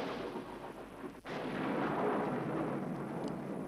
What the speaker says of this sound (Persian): ناگهان صدای رعد وحشتناکی شنیده شد.